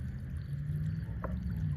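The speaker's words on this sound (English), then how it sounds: "It's just puking out water right there." Water gushes out of the open end of a buried yard hose outdoors, a steady low rushing pour that runs continuously at moderate volume under faint ambient noise.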